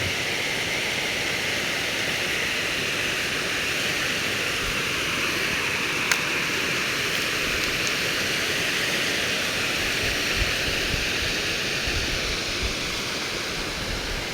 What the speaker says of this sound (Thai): ช่วงนี้น้ำไหลแห้งครับน้ำไหลเชี่ยวครับพี่น้องในช่วงนี้